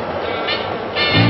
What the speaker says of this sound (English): you're about to take a ride on New York's famous A train